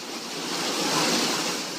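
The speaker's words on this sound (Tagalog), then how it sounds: "Kulay putik at rumaragas ang bahang yan sa Rodriguez Rizal." Muddy floodwater rushes through Rodriguez, Rizal in a loud, continuous broadband roar that swells slightly in the middle, with no voices heard.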